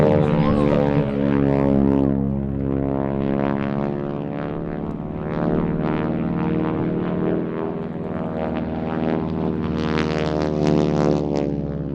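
A North American T6 at the Little Gransden airshow drones loudly and steadily with its radial propeller engine, a rich harmonic roar that holds for the whole stretch with slight swells and no voices.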